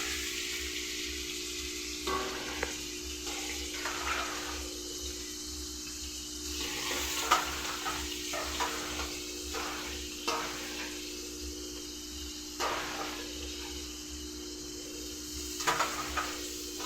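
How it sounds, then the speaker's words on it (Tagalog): Pork hock being stirred in a pot for adobo, with steady sizzling and bubbling and a handful of soft scraping stirs and clinks spread through the clip, no talking. "Haluin lang natin."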